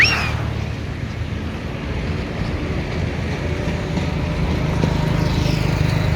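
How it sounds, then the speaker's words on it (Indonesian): A speedboat motor runs steadily on the Musi River in Palembang, a close, continuous drone with wind buffeting and water rushing alongside for several seconds. "Ini speedboat motor."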